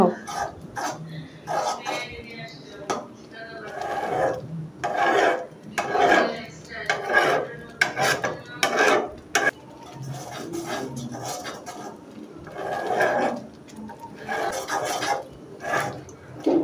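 Jute greens being stirred into lentils in a cooking pot, with scraping and rubbing bursts of spoon against the pot coming in irregular strokes, close and moderately loud, broken by faint background voices.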